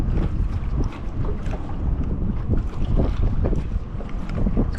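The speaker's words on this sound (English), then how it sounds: "This wind's really picking up." Wind blowing hard over a fishing boat on Guntersville Lake, a steady loud buffeting roar with gusty rumble, continuous throughout.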